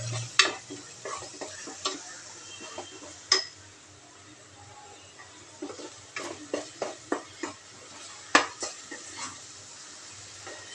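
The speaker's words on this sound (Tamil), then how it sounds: "நல்லா ரோஸ்ட் பண்ணி விட்டுக்கலாம்." A spatula scrapes and clinks around a pan as green masala with yogurt roasts for mutton dalcha, a steady run of sharp metallic taps and stirring strokes over a faint sizzle.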